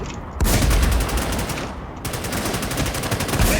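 Sustained rapid automatic gunfire in a PvP shooter video game, loud and dense, with a brief pause before the rattling bursts resume and continue to the end.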